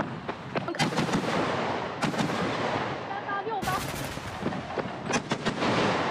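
A Type 08 infantry fighting vehicle fires its 30 mm autocannon at targets on a live-fire range: several sharp booming shots in short groups, echoing outdoors, with a voice speaking in between.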